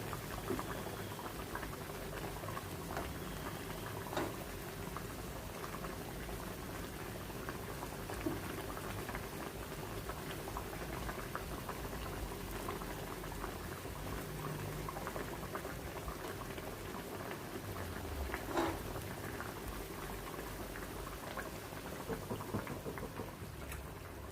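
Green fish curry bubbles in a pot on the stove, a dense, steady close simmer of popping bubbles and liquid burbling that continues evenly throughout without any talk.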